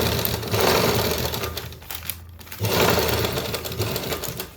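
A sewing machine stitches a princess-cut blouse in two loud, steady runs of rapid needle clatter, broken by a brief pause, with no talking.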